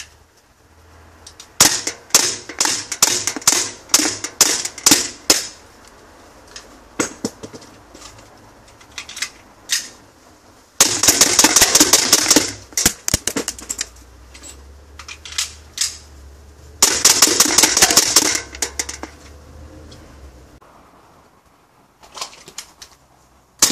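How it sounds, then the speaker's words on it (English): A CO2 Sig P226 X5 air pistol fires in rapid strings of sharp, snappy pops, with pauses between bursts for magazine changes and a few scattered single shots at the end. "watch me embarrass myself as I attempt to do a rapid mag change."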